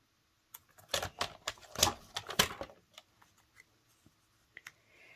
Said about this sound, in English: I'm going to cut that down 1/2 inch.